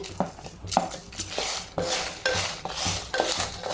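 Whole spices are stirred in a pan for a spicy ivy gourd masala curry to keep them from burning, giving a steady series of about seven rhythmic metal scrapes and knocks up close, with no talking.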